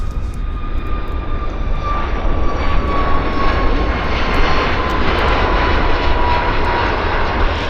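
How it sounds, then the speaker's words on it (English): A WestJet Boeing 757 takes off at Vancouver Airport, its jet engines roaring loud and steady throughout with a rising whine on top, heard from close by with no talk. "757 will be our number 2 departure for the show."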